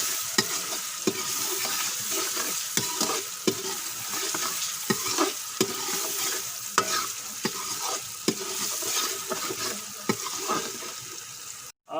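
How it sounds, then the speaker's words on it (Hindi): Spices fry with a continuous sizzle in a pan for an arvi (taro) curry, broken by regular scraping strokes as a spoon stirs them, close and fairly loud, with no talk. "अब मसाले को अच्छी तरह भूनेंगे।"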